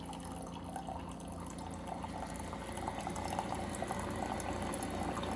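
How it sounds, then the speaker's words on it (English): Keurig coffee maker brewing in the morning, a steady bubbling, trickling stream of coffee dripping into a cup, continuous and close, growing slightly fuller toward the end. "Is there any better sound than coffee dripping into your cup first thing in the morning?"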